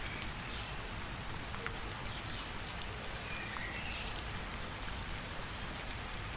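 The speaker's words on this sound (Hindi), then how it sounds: "बारिश अब तेज और लगातार होने लगी थी।" Heavy rain pours steadily in a forest, a dense, constant hiss that holds at the same level from start to finish with no voices.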